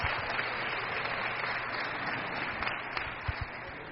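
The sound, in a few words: crowd applauding at a racquetball match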